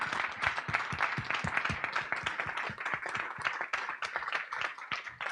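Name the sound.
audience applause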